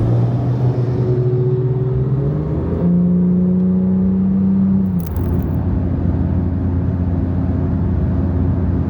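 Several Porsche sports cars, including a Carrera T and a Carrera S, pull away on an open road, their engines revving and shifting as the group sets off, a steady loud rumble with rising and falling engine tones.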